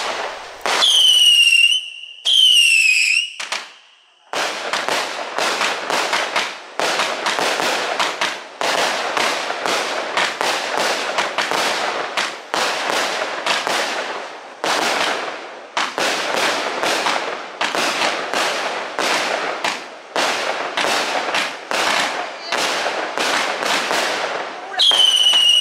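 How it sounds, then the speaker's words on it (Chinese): Firecrackers and fireworks going off at a family gathering in a rural hillside village, dense rapid crackling bursts in long loud volleys, with a couple of whistling rockets at the start and again at the end. "除了放鞭炮以外，还会放烟火。"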